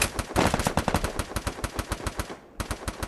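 Rapid automatic gunfire from an MP40 in the video game Free Fire, a close, loud string of sharp evenly spaced shots that pauses briefly and then resumes with a few more bursts.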